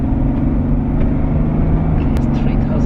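A BMW E39 car with a freshly fixed oil leak is being pushed on a test drive. Its engine drones steadily from inside the cabin, with a constant low rumble and road noise throughout and no talking.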